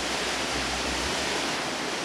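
Water pouring steadily down from a leaking roof into a clinic room where patient folders are kept, a constant broadband rush with no breaks, close and fairly loud.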